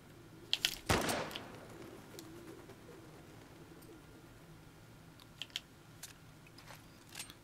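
Pigeons in The Last of Us Part II give soft, intermittent coos and flutters, faint and somewhat distant, alongside a sharp burst near the start and scattered light clicks in a quiet ambient setting.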